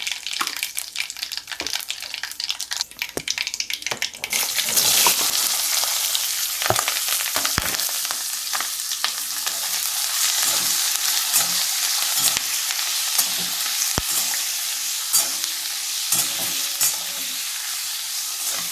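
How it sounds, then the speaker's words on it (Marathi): Cumin seeds and asafoetida tempering in hot oil for a vegetable dish, a loud continuous sizzle that jumps up partway through, with scattered crackles and utensil clicks. "मोरी जिरे हिंग घातले फोडणी केली भाजीसाठी"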